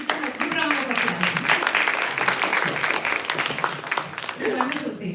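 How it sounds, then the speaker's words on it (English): Audience at a Sri Sathya Sai Center gathering in Detroit gives a sustained round of applause, a dense steady wash of clapping lasting several seconds, with voices mixed in. "give them a good round of applause"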